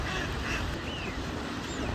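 A large flock of ducks and other water birds crowding for food thrown by a man beside the water, with overlapping quacks and calls over a continuous busy background.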